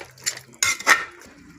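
Mutton curry being stirred in a cooking pot, with a few short metallic scrapes and clinks of a spoon against the pot, close and fairly loud.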